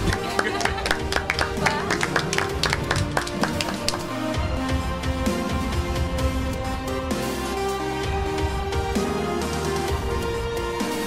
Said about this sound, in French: si tu peux applaudir